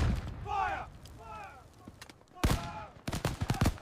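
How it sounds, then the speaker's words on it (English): A British musket volley fired at the North Bridge during the 1775 fighting on Battle Road, heard as sharp, loud cracks bunched together, with a couple of shots and then a denser burst of overlapping reports, amid voices. "The British fired warning shots, then a full volley"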